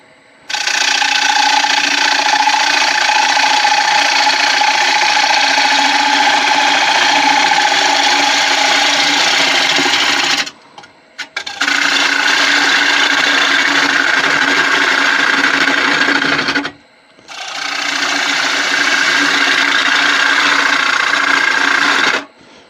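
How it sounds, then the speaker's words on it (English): A power tool hogs wood out of a carving in long, loud, continuous grinding runs, broken by two brief pauses, close up and with no talking. "I'm just hogging wood out here. Not worried about finished cuts or anything else."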